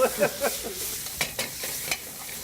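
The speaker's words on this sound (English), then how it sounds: "let's stir over here" Food for a paella-style dish is stirred across several pans on a crowded range, giving a quick run of scraping strokes over a soft sizzle, each stroke sharp and close.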